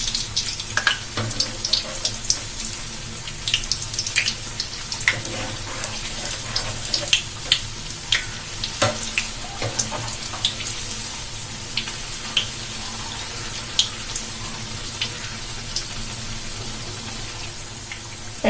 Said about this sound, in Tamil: ரெண்டு பக்கமே நல்ல எண்ணெயில பொரிஞ்சு செவந்து வந்துடுச்சு